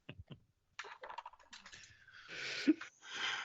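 Paper being shifted and stamped in an office setting, with dry rustling and tapping clicks in quick irregular bursts, one sharper knock near the end, fairly close and without talk.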